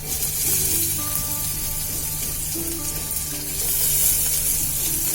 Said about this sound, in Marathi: आता जिरं टाकणार काही जिरं फुलायला लागलं की मग कांदा